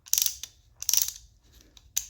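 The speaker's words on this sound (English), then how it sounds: "it'll twist in or twist out, and then it'll actually ratchet" A caliper compression tool being worked by hand gives three bursts of sharp mechanical ratcheting clicks, close and clear, with short pauses between them and a single brief click near the end.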